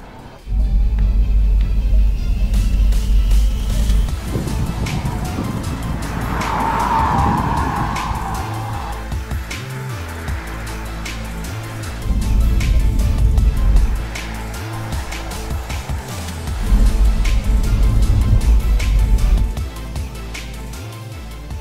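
A Porsche Mission E electric car is driven hard on the Weissach test track, with loud bursts of tire squeal and skidding through corners between quieter stretches of rolling road noise.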